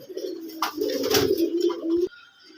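A single Rajgolla pigeon gives a close, rolling coo lasting about two seconds, followed by quiet.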